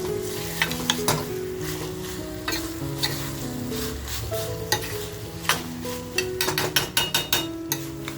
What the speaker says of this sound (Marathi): छानपैकी आपण हे फ्राय करूया.